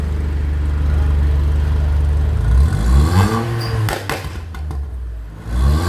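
A modified Volkswagen Polo GT fitted with a straight-pipe exhaust and downpipe idles with a deep rumble, then revs hard in several loud, close bursts with crackling pops between them.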